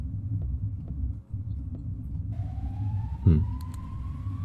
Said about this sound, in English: Is that an ambulance siren?